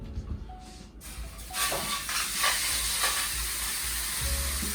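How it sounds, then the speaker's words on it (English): Whole chicken hitting a hot roasting pan sets off a steady, loud sizzle and hiss that swells after a quieter start and holds evenly to the end, with light clinks of handling. "Hot pan, sizzling."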